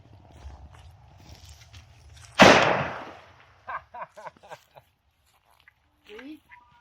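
A single sharp rifle shot into water bottles, one of .223, 7.62x39 or .300 BLK rounds, cracks loudly and decays with a splashy tail, followed by scattered clatter and a few voices talking.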